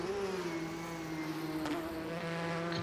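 GTE race car engines roar steadily from a Le Mans endurance race stream, a sustained high engine tone with one car passing close, loud and alone without talk.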